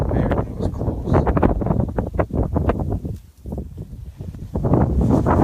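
Gusty wind buffets an outdoor microphone, a steady low rumble with brief dips, during shed dummy retrieve training with a dog.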